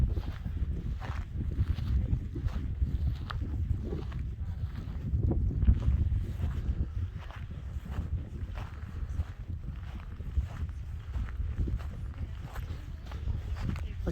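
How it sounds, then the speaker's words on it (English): Wind gusts across the open outdoor site of Carhenge, a classic-car sculpture in Nebraska, as a steady low rumble and buffeting against the microphone with irregular swells, loud and close, with no clear talk. "Like I said, sorry about the wind."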